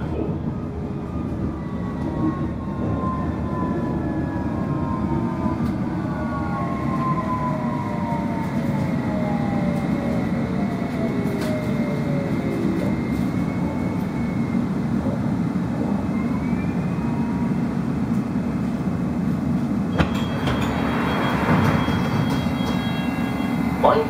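A London Underground District Line train running between stations, with a steady loud rumble and clatter of wheels on track and rising and falling motor whine throughout.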